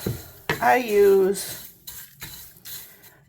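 A loose tea blend is stirred and mixed by hand, giving a few short, soft scraping and rustling bursts close by, with a brief voice-like tone near the start.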